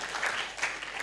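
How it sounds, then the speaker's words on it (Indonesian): Audience at a live Indonesian preacher competition event applauds for a sponsor, a dense, steady wash of clapping throughout with no voices. "tepuk tangan dulu untuk Bank Indonesia."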